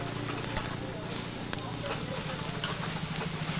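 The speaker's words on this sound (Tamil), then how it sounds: "ஸோ வெங்காயத்தையும் நல்லா வதக்கிக்கோங்க" Onions sautéing in a pan for a tamarind curry with turkey berries, a steady broad sizzle with occasional stirring scrapes, close and moderately quiet, continuing alone without talk.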